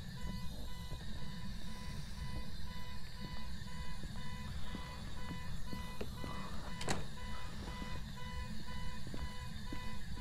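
A repetitive electronic alarm sounds in a garage in Phasmophobia, regular evenly spaced beeps over a low rumbling background, heard at a distance and fairly quiet, with no voices.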